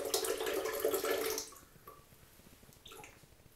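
Fresh coconut water pours out of a freshly opened coconut while a smoothie is being made, a steady close splashing stream for over a second before it trails off into faint drips.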